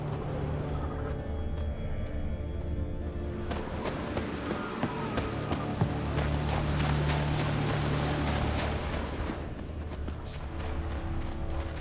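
Hooves of a large horse clip-clopping in The Witcher 3: Wild Hunt, a steady rhythmic trot that carries on throughout, loud and close, with game ambience and mechanical clatter in the background.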